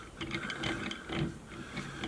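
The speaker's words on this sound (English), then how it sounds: "I've got to unscrew this the whole way" A threaded collar being spun off a dumbbell handle to free a weight plate, giving a quick series of close metallic clicks and ratcheting rattles.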